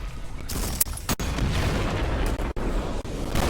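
A shotgun grenade in ULTRAKILL is shot with the revolver and explodes as a deep, loud boom. Dense, continuous blasting and crashing game noise follows, with a few sharp cuts.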